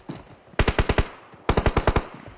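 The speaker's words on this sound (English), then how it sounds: "Yeah, you guys can hear the shots in the background, and that's because them players are making a lot of noise." Gunfire from other players in the mobile battle-royale game PUBG Mobile during a tournament match: two rapid bursts of automatic fire, about five or six sharp shots each, loud and punchy, with a brief gap between.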